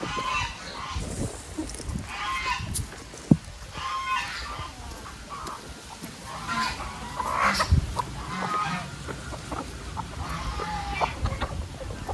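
Chickens and small chicks cluck and peep in an open yard: scattered calls from several birds at a moderate distance over steady outdoor background noise, with one sharp knock midway and no talking.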